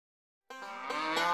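Cattle on a cattle farm give a loud, sustained moo that starts abruptly partway in and carries on to the end, rich and harmonic, with no talking.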